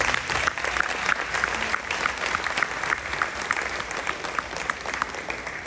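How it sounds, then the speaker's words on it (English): Sustained audience applause at a high school ring ceremony, a broad wash of many hands clapping at a steady, moderately loud level with no talk over it. "So let's give her a large round of applause."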